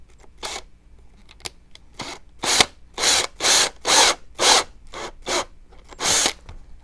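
Power drill boring through the eye of a prop skull, a string of short, loud, close bursts of whirring that start sparse and then run in a steady rhythm, with no talking.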